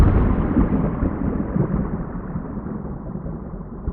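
A deep, rumbling roll of thunder as imagined on Venus, loud and close at first, then slowly fading and muffling over a few seconds, with no talking.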